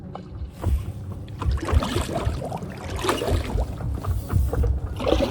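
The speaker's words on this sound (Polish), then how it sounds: "A gościu płynie łódką" A boat moves through lake water with soft, uneven splashing and lapping, accompanied by low rumbling wind noise.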